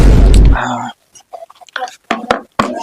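A dog barks in a Bhojpuri comedy sketch: a loud opening burst, then a string of short, sharp barks and yips separated by brief silences.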